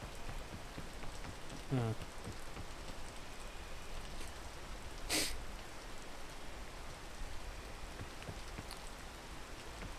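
Rain hisses steadily across the whole scene in the video game PEAK, a dense, even wash with a couple of brief louder clicks, and a man utters a short exclamation.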